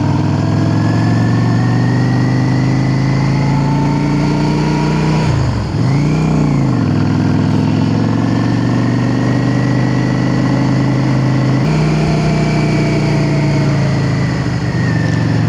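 Steady motorcycle engine drone while riding up a hill road near Eskdale, loud and continuous, with a brief dip and swell in pitch partway through as the rider shifts or slows.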